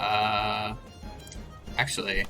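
A goat-like creature in the Temtem video game lets out a loud, sustained bleat at the start, followed by game effects and someone briefly speaking.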